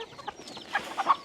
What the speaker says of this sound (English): Here's the hungry chickens.